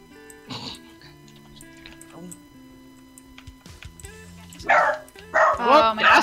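A pet dog barks indoors, several sharp loud barks clustered near the end after quieter stretches with a steady ticking and faint background sounds.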